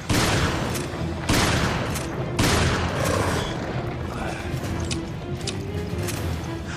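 Gunfire from the video game Resident Evil: Revelations: loud, repeated volleys of shots, with a few heavy blasts early on and rapid fire continuing throughout, under a dense game soundscape.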